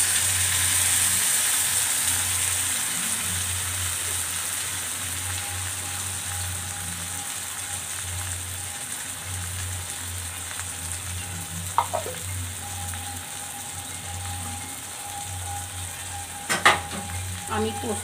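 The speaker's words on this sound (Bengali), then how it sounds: "এবার আমি ভালো করে এটা নেড়ে নিব।" Poppy seed paste frying on a low gas flame in a pan with a splash of water, a steady close sizzle throughout with a few scraping stirs of a spoon near the end.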